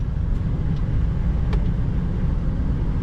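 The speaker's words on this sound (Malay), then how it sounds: "Cuba dengar itu aircon itu angin keluar saja." Air blows from the air conditioner inside a 2013 Toyota Prius C 1.5 hybrid as a soft, constant whooshing hiss over a low cabin hum.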